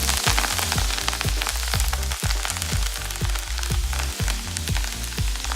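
Kale dropped into a hot oiled pan fries with a loud, steady sizzle and crackling splatter, close up and continuous throughout with no talking.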